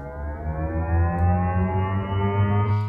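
A synthesized riser built from string material: a dense, buzzing tone rich in harmonics climbs slowly and steadily in pitch, loud and alone for about three seconds.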